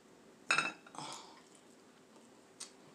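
Knife and fork cutting a T-bone steak on a plate, a couple of close clinks and scrapes of metal on crockery followed by quiet, then one faint tap.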